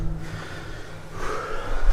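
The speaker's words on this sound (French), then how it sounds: "Pardon si je suis essoufflé, mais les marches." A man breathes heavily and gasps after climbing the stairs of an abandoned high-altitude mountain bunker, his breaths loud, close and ragged, with no words spoken.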